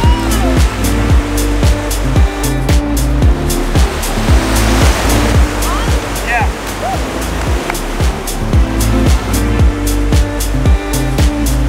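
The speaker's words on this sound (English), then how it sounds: "right where the waves are breaking" Ocean waves break and wash onto a beach in a continuous loud surf roar. Repeated sharp clicks and handling knocks sit on top, and a voice is heard partway through.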